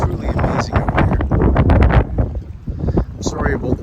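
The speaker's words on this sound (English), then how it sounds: "I'm sorry about the wind, but it's quite windy here still." Strong gusting wind buffeting the microphone at a spring camp on Georgian Bay, rough low rumbles rising and falling continuously, loud and close, with a person talking through it.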